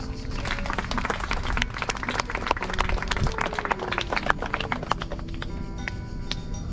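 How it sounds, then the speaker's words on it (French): Audience applause at a manade bull-herding demonstration at Mas de la Comtesse near Aigues-Mortes, with scattered, uneven clapping that carries on steadily over background noise for the full stretch. "vous pouvez applaudir Numa"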